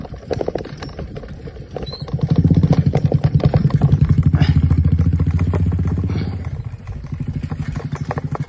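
A Bullet motorcycle rides past on a rough rural track, its thumping single-cylinder exhaust pulsing steadily. The sound builds up loud and close, then fades as the bike moves away.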